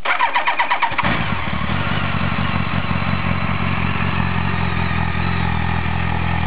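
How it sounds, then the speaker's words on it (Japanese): A BMW K1200S motorcycle starts outdoors under cherry blossoms in Okutama, Japan: a rapid cranking whir for about a second, then the engine catches and settles into a loud, steady idle close by. "じゃあちょっとエンジンをスタートしてください。"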